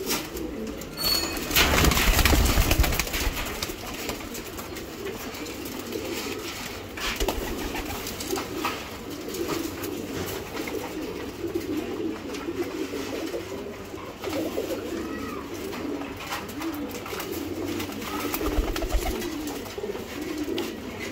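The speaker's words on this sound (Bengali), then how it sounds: "এখানেও কিছু কবুতর আছে" Several giribaz pigeons, males and females kept together, coo continuously in a low rolling murmur, close and moderately loud, with a brief louder burst of rustling near the start.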